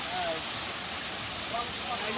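A waterfall at Junani and Tengraghati roars as a dense, steady rush of falling water, loud and continuous across the whole span.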